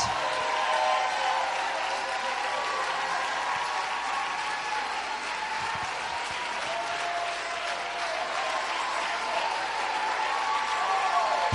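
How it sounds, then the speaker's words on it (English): A large audience at a church service claps hands in a loud, sustained, dense wave of applause with crowd noise mixed in, continuing steadily throughout. "Clap your hands. Do it big."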